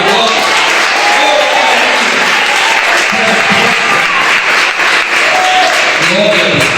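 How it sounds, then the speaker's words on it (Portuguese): A church congregation applauds together during a worship service, a dense and loud wash of clapping that holds steady throughout, with some voices mixed in. "Vamos aplaudir bem agora."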